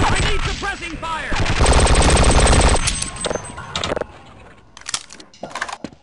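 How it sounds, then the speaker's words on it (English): Suppressing gunfire in the first-person shooter HDTF: a loud, rapid machine-gun burst with sharp cracking shots, followed by scattered single gunshots and clatter as the firing trails off. "I need suppressing fire."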